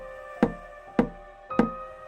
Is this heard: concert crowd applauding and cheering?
no